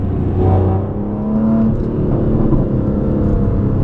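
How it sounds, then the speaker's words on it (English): A loud Aston Martin DB11 V12 with straight pipes drones steadily nearby, a deep throaty exhaust rumble with a whirring edge that holds at a constant idle-like level. "we did put the straight pipes on this thing, so it's definitely louder"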